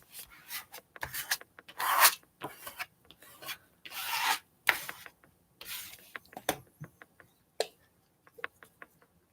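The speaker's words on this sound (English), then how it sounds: "this is just a Bondo spreader" A plastic Bondo spreader scrapes paint across a journal page in raspy, uneven strokes, heard close and clear, followed by a run of lighter ticking scrapes, with no talking.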